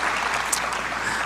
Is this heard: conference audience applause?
yes